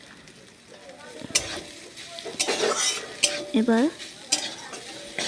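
Maggi noodles with egg are stirred in a pan, with metal utensil scrapes and clanks in uneven bursts over a faint sizzle, close up, and a voice speaking briefly.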